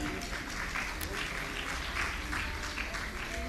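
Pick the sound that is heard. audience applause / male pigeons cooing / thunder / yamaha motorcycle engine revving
audience applause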